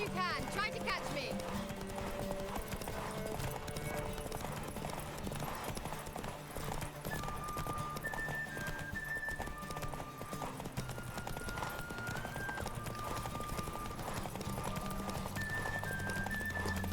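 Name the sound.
horse galloping hooves in The Witcher III video game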